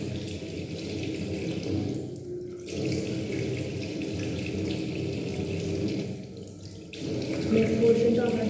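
Tap water runs steadily into a sink while a face pack is rinsed off the face and neck, a continuous close splashing flow with brief pauses as hands move under the stream.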